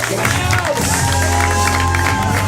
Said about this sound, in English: Clap for them. Make some noise, everybody.